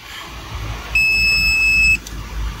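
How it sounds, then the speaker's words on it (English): A power distribution unit in a cryptocurrency mining shed sounds its alarm after its overcurrent protector trips: one steady, high electronic beep lasting about a second, close and clear over a low background hum. "what the heck is beeping in my shed?"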